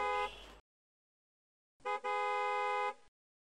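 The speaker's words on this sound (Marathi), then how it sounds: "ते काय हॉर्न वाजवत बसतात" Two car horn blasts, a short one then a longer sustained honk after a pause, loud and close with silence between.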